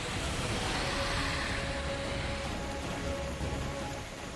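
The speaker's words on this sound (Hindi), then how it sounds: "दक्षिण पश्चिमी मानसून अरब की खाड़ी से लगे कोस्टल इलाकों में पहुंच चुका है, जिससे इन इलाकों में जोरदार बारिश देखने को मिल रही है।" Heavy southwest monsoon rain pours down over the Arabian Sea coast, a dense, steady hiss of downpour filling the scene with no voices, loud and continuous throughout.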